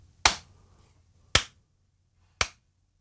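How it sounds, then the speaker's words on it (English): Three sharp, crisp finger snaps or claps ring out alone in a quiet room, spaced about a second apart, each decaying quickly. "Clapping."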